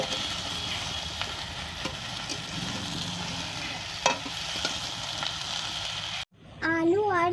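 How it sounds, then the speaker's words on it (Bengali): Ridge gourd and potato pieces stir-fried together in oil seasoned with kalonji, a steady close sizzle with scraping stirs throughout, ending in a brief cut to a different sound. "ঝিঙেগুলো আলু আর ঝিঙে একসঙ্গে ভালো করে কষতে থাকবো"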